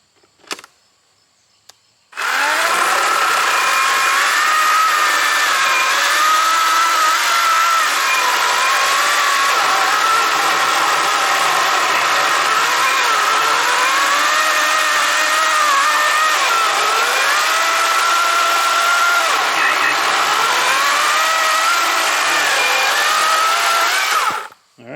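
A 16 inch Wild Badger 40V battery chainsaw starts after a quiet moment and cuts continuously and loudly, its electric whine rising and falling as it bears into the wood, with no voices.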